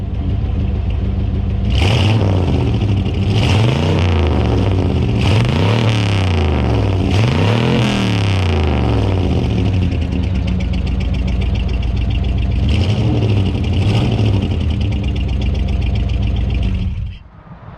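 A 1970 Chevelle V8 engine, freshly oiled, idling loud and close, then revved hard several times in quick swelling bursts, a pause of steady idle, two more revs, and cut off abruptly at the end.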